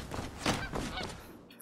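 A duck in Skyrim Special Edition on Xbox One gives a few quick, nasal honking quacks close by, ending abruptly with no voices.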